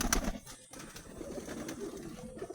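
Pigeons, a male and female pair, kept in a cage of shallow drawer-like nesting boxes, give soft, low cooing that runs steadily and faintly throughout, with no voices.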